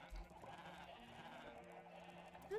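A sheep in Minecraft bleats faintly over a steady bed of game music and ambience, with a soft thump near the start and no talking.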